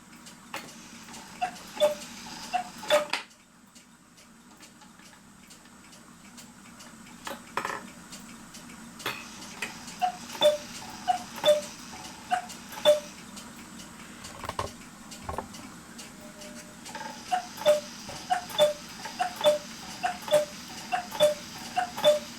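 An 8-day Black Forest Regula cuckoo clock ticks in a steady, even rhythm, close and crisp, with a brief pause and some light handling clatter in between.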